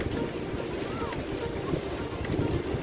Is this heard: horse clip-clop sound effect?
no